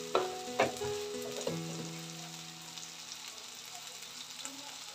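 Tomatoes and dry spices sizzle and fry in a pan for a prawn malai curry, a steady close crackle with a few sharp stirring clatters near the start, then a softer continuous hiss.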